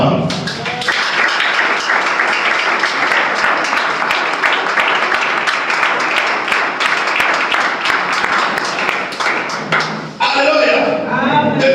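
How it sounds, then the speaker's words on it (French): Congregation clapping loudly during a sermon on baptism, a dense sustained round of applause and cheering that fills the space and breaks off near the end into a brief different sound. "acclamons fortement la parole"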